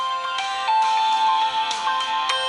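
Electronic phone ringtone chiming a looping pattern of clear melodic beeps, steady and prominent, with no speech over it.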